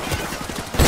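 A short, dense burst of Desert Eagle gunfire in Call of Duty 4 Remastered, loud and close, punchy shots ending in a heavier blast.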